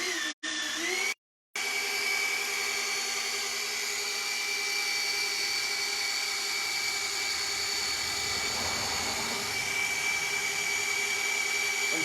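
A rotary polisher runs steadily at low speed, 600 RPM, with a continuous close whine and hum that holds for the whole stretch after a brief cut-out near the start.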